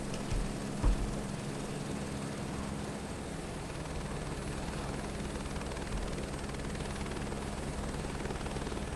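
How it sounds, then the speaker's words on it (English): A crop-spraying helicopter idles steadily in Microsoft Flight Simulator 2024, a continuous, even rotor and turbine drone holding at moderate volume throughout, with a brief thump near the start. "I guess because this is a different helicopter. It's a spray one."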